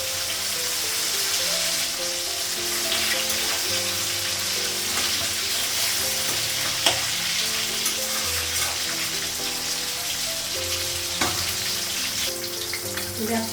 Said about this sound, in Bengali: গ্যাসটা কমালাম, মাছ ভাজা হয়ে গেছে।